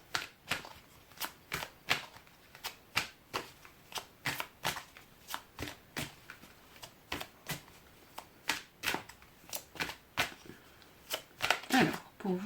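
Oracle du Petit Enchanteur oracle cards are shuffled by hand in a long run of crisp, rhythmic riffling flicks, close and clear, with a voice speaking faintly near the end.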